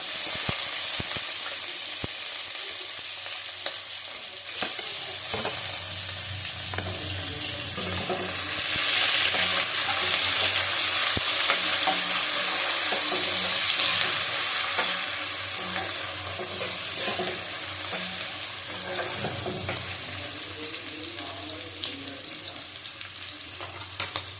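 Carrot and onion hit a hot wok and fry with a loud, steady hiss that swells partway through and then settles, with faint stirring clinks beneath, close and continuous, with no talk.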